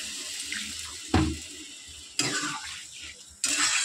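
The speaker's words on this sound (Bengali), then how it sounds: "তো বন্ধুরা দেখো আমি একটুখানি জল অ্যাড করবো" Water runs into a pot of simmering vegetable curry in a home kitchen, arriving in three short splashing bursts separated by quieter pauses, close and fairly loud with no voices.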